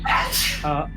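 One close, loud sneeze bursts out abruptly and fades into a brief voiced tail, with talk around it.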